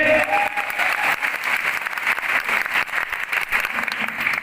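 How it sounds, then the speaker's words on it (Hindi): Applause from an audience at a New Year welcome event in Lucknow, a sustained burst of clapping that stays loud and continuous from start to finish. "जोरदार ताली होनी चाहिए।"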